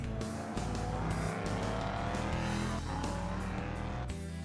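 An LMP3 prototype race car in rFactor 2 roars steadily and loudly throughout, engine pitch rising and falling through shifts, with a hint of tyre squeal underneath.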